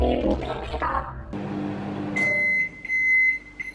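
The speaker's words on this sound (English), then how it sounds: "You're gonna put it in the microwave." A microwave oven hums after a door closes, then a series of high electronic beeps sounds near the end.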